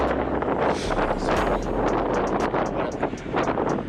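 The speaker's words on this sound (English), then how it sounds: "A little bit of wind." On a chilly, cloudy outdoor endurance bike ride, wind buffets the microphone as a steady, rumbling roar with small gusts throughout.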